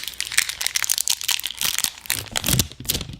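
Makeup Revolution foundation packaging is ripped open, with loud, close crinkling and tearing of plastic and cardboard in rapid, irregular bursts.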